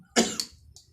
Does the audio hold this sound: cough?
yes